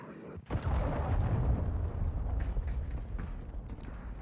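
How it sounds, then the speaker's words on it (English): A cruise missile strike explodes in a Call of Duty match, a sudden heavy blast followed by a long rumbling, crackling roar that slowly fades, loud and without speech. "Friendly cruise missile approaching target."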